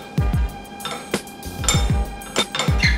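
A quinoa Santa Fe salad being tossed with dressing in a bowl, with repeated clinks and scrapes of utensils against the dish in an irregular rhythm, close and fairly loud, with no talking.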